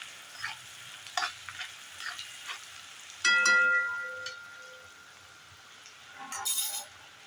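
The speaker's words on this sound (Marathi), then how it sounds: "हा मसाला चांगला परतून घ्यायचा आहे" Coconut masala for traditional stuffed brinjals is sautéed in a pan, with soft scraping and stirring over a light sizzle, sharp clinks of a spoon against the pan, and a louder burst of stirring midway.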